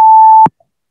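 A single steady electronic timer beep, sustained for about half a second and ending with a soft click, sounding alone and close in a quiet spoken grammar lesson.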